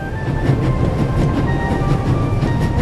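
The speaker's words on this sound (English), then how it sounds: "It will be suicidal to climb up there while the train is at full speed." Train rolling at full speed in a video game, a steady loud rumble with rhythmic rail clatter and faint high tones, continuous throughout.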